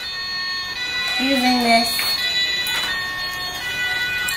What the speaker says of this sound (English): Whoa, it's got a siren.